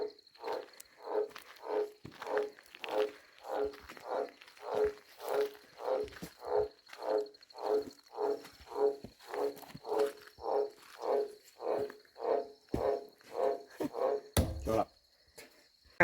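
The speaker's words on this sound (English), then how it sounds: "It's like it's inside that pipe and it's echoing." A frog croaks from inside a pipe near a caravan camp on the road to Copperfield Gorge, Queensland, giving a long run of evenly spaced, hollow, echoing croaks about twice a second before a short clatter at the end.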